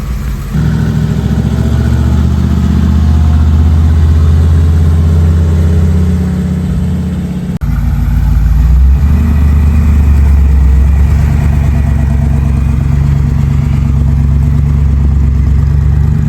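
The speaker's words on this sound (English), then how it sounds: "Going to take it for a little test drive." A truck engine drones loud and close on a test drive, with a steady low rumble and a brief dip in the middle before it pulls on again.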